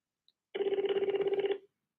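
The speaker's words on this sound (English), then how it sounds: "I don't know why that ringing is happening." A telephone ringing during a phone call: a single pulsing, buzzy electronic ring lasting about a second, fairly close and clear, with no talking over it.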